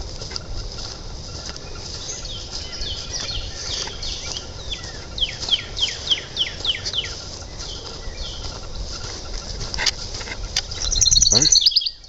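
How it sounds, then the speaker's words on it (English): Birds call on an evening walk at sunset, a series of short chirps and calls in the middle, faint and distant over steady outdoor hiss, ending in a louder burst of noise. "Occasionally I'm shutting up to allow you to hear the birds and things."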